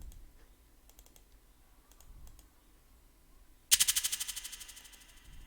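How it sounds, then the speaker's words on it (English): After faint clicking, a bright shaker burst repeats in quick echoing pulses that steadily fade away, loud at first then dying down. "that's a shaker with some delay"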